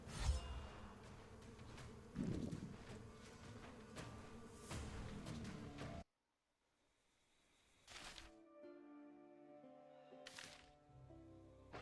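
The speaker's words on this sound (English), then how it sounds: "It's a frick ton of bees." A swarm of bees drones in a video game, a dense buzzing bed broken by sharp hits, then near silence before scattered buzzes return.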